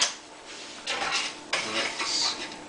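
A spoon stirs and scrapes arborio rice in a non-stick pan for risotto, with close, repeated swishing scrapes and light clinks against the pan, and a faint sizzle beneath.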